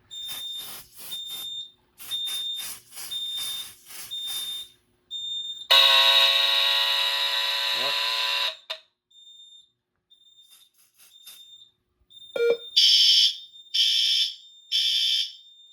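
A Notifier NFS2-640 fire alarm panel test sounds loud, steady electronic tones and pulsed beeping bursts in repeating groups, with a long continuous tone in the middle and short pauses between patterns.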